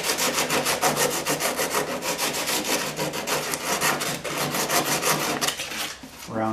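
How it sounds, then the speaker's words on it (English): Sandpaper rubs back and forth over the cut wooden edges of an interior modification part, a steady rhythmic rasping that runs nearly continuously, close and fairly loud. "I also want to take some sandpaper"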